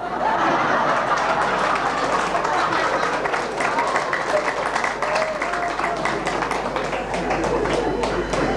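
Audience applause at a spiritual discourse gathering, a continuous crackle of many hands clapping at steady strength for several seconds, with faint murmurs mixed in.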